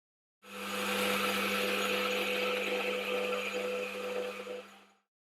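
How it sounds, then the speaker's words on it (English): A metal lathe runs with a steady hum while a turned part is polished with emery cloth, giving a continuous close abrasive hiss for about four and a half seconds before stopping abruptly. "Just cleaning up that dodgy looking surface finish there with some emery cloth"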